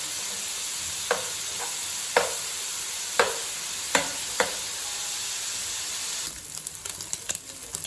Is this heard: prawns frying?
yes